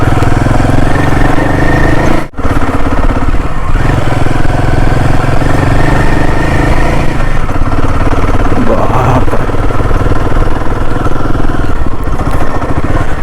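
A motorcycle rides a rough, broken off-road track on the way up to a hilltop temple near Rishikesh, Uttarakhand, its engine droning steadily and loudly up close with clattering jolts, briefly cut out once early on.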